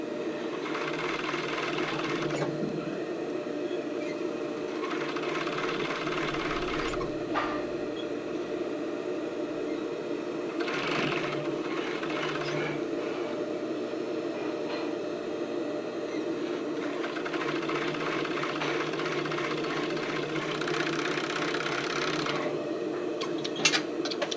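A sewing machine runs in short bursts stitching a tank top seam, its mechanical whir starting and stopping with brief pauses between runs, close and clear with no voices.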